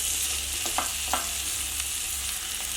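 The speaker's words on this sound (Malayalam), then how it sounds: "ഒരു രണ്ട് മൂന്ന് മിനിറ്റ് ഇതുപോലെ നന്നായിട്ട് മിക്സ് ചെയ്ത് കൊടുക്കാം" Lemon pickle masala being stirred in hot oil sizzles steadily up close, with a couple of soft scraping strokes from the spoon partway through and no speech.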